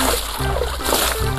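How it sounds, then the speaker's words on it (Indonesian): Water splashes and sloshes over a toy sand truck during washing, a brief burst of continuous close splattering with a voice faintly present underneath. "langsung kita cuci truknya biar bersih"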